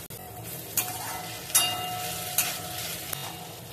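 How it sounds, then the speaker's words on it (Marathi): Ginger garlic paste fries in a pan for Kerala style chicken curry, a soft constant sizzle broken by four sharp scraping clacks of a spoon stirring against the pan at regular intervals. "आता हे सगळं परतवून झाल्यानंतर आपण इथे टाकणार आहोत आला लसूणची पेस्ट"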